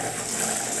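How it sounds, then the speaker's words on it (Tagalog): Water gushes from a bathtub shower tap in a small hotel bathroom, a brief, steady, close rush of running water with no talk. "Labas yung tubig, mag-shower din siya."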